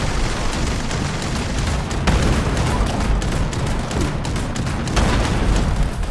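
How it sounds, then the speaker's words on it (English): Enemy explosions in Fallout 76 crash through a dense, continuous barrage of booms and rapid gunfire, loud and near, with several heavy blasts standing out. "Just gotta make sure to keep away from their explosions because they hit so hard."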